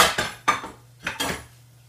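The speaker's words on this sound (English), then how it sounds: "use my smaller frying pan." A small metal frying pan clanks and scrapes in a few quick knocks, close by, as it is set down and shifted.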